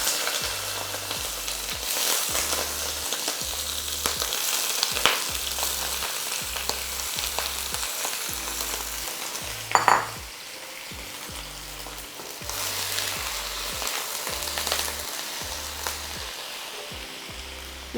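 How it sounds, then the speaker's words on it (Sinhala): Prawns frying in hot oil for a quick stir fry, a steady close sizzle and crackle throughout with a brief sharper burst midway as food hits the pan. "මේක දැන් තෙල් රත් වෙලා තියෙන්නේ ඉස්සෝ ටික දාගන්න පරිස්සමෙන්"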